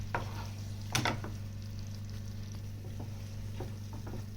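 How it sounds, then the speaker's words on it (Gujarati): A spoon stirs spices into mashed potato filling for dabeli paratha, giving a faint soft scraping and a sharp clink near the start, over a low steady kitchen hum. "હવે બટેટાના માવા સાથે આ બધું વસ્તુ મિક્સ કરી દેવી।"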